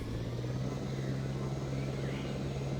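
Helicopter in the video game Jurassic Park: Operation Genesis, a steady droning engine hum with a constant low tone, continuous and unchanging throughout.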